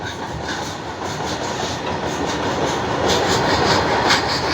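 A heavy goods train hauled by three engines rolls past a station near Borra Caves in the Araku Valley, a continuous rumbling roar with rhythmic wheel clatter that builds slightly louder, close by.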